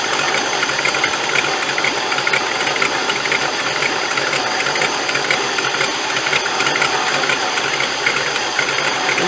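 A 1985 Land Rover 110 ex-NATO V8 engine runs close by, a steady, busy mechanical clatter with an even rhythmic ticking throughout and no voices.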